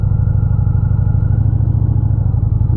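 Indian Challenger motorcycle engine turning slowly through a U-turn: a steady, loud, low rumbling drone close up, even and unbroken throughout with no voices.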